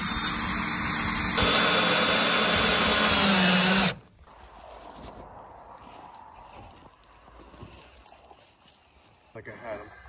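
A power drill drives screws into wooden rafters for an off-grid cabin in the woods. It makes a loud, close, continuous whir for about four seconds, then stops as people talk over faint background noise.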